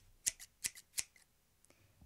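Scissors snip through a jacket in a few quick, crisp cuts, three sharp strokes followed by lighter clicks, close and quiet with no talking.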